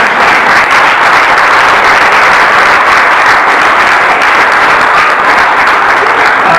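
A church congregation applauds loudly and continuously, a dense steady wash of many hands clapping from start to finish.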